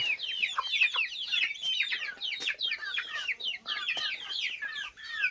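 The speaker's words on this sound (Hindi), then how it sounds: "इसी रूम में रहते हैं मुर्गियाँ।" A flock of desi chickens clucks and chatters busily while being fed grain inside their room, dense overlapping calls near and fairly loud with no talk.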